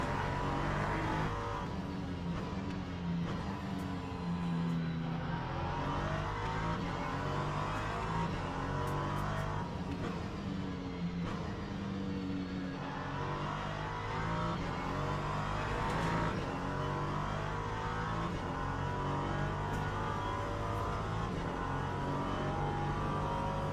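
Race cars lapping Fuji circuit, continuous engine roar with repeated rising and falling revs as gears change, heard at close range without pause.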